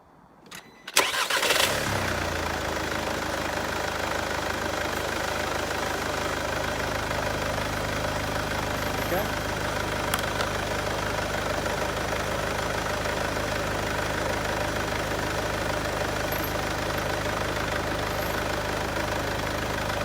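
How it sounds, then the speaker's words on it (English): A Mercedes B200 engine cranks briefly and catches, then settles into a steady, loud idle that runs on alone without any voices. "So let's start it up and see what we're getting with the engine running."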